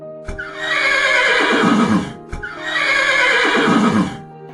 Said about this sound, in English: Now we will hear the sound of a horse.